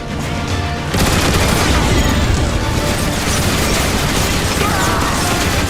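Turret gunfire in the video game Transformers War for Cybertron, dense rapid booming bursts and blasts layered over a rumbling battle din, loud and continuous after a sudden surge near the start.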